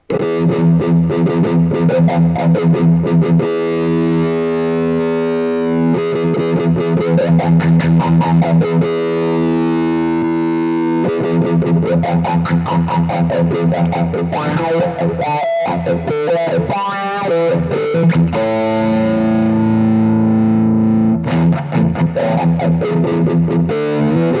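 Electric guitar played through a wah-wah pedal with its bass switch engaged, distorted chords and riffs with sweeping filter motion, loud and continuous, pausing briefly between phrases.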